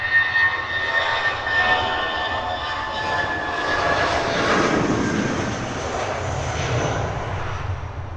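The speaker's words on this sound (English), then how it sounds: "This one is a 5-year-old -9 Dreamliner, destination Delhi." A five-year-old Vistara Boeing 787-9 Dreamliner bound for Delhi roars steadily at Heathrow, its jet engines loud and sustained with a broad whine rising and fading slightly as it passes.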